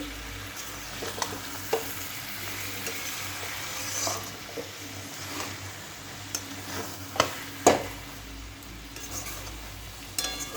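Kachki fish chochchori fries in oil in a pan with a steady, low sizzle, broken by occasional soft ticks and scrapes of stirring, with no talking.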